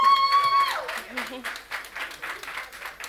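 Audience applause at a master class rises after a brief tonal sound and continues as steady, moderately loud clapping, with a voice briefly audible at the start.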